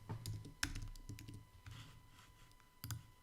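Fingers tap quickly on a computer keyboard in a quiet room, a close, irregular run of soft clicks with a few sharper keystrokes standing out, no voices.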